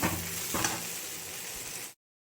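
Spices sizzle in hot oil while khichdi is tempered, a loud, continuous crackling fry close by that holds steady for about two seconds before cutting off abruptly.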